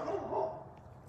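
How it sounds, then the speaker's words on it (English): A neighbor's dog barks in a garden, a short burst of barking in the first half second that fades to quiet ambience. "That's the neighbor's dog."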